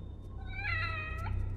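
A cat gives one short, close meow that rises then trails off, over a constant low hum.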